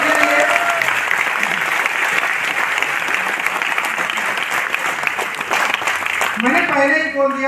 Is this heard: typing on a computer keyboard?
no